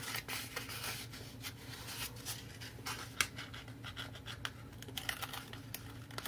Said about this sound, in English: let's pull the tape off inside here.